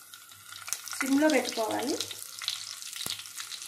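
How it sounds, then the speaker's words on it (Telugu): Stuffed brinjals and tempering seeds fry in hot oil in a pan, giving a steady close sizzle with a louder crackling burst in the middle and a brief spoken line over it. "గుత్త వంకాయతో పాటే తాలింపు గింజలు కూడా వేగుతాయి"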